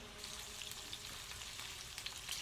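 Onions fry quietly in a pan, a soft, even sizzle that holds steady throughout with no voices.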